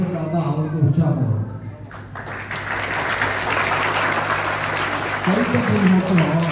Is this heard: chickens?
no